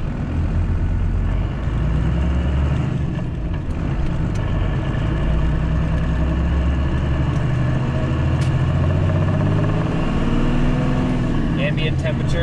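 A car fitted with a newly swapped intercooler drives onto a highway on-ramp, its engine a loud, steady, low droning rumble that holds throughout with little change.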